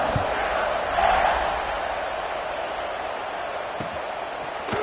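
Football stadium crowd at a college game roars steadily after a scoring drive and extra point, a dense, distant wash of cheering that swells briefly before settling into sustained noise.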